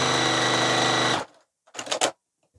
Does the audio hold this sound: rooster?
no